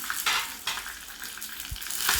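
Mustard seeds sizzle and crackle in hot oil, with scattered pops and bursts over a quiet frying hiss.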